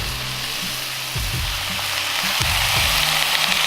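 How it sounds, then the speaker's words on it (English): Steady, crackling sizzle of peppers and chilies frying on a hot Blackstone griddle, with a few low thumps and scrapes as food is stirred. "And I like to hear the sizzle and stuff."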